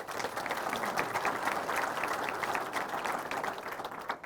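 Sustained audience applause at a Quilts of Valor ceremony held at a quilt museum, even and moderately distant clapping from a crowd that continues without a break for several seconds.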